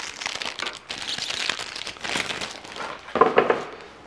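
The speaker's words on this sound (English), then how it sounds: "we're just going to open up this plastic" Plastic packaging around a Gunpla model kit is sliced open with a knife, giving steady close crinkling and rustling throughout, with a few sharper crackles near the end.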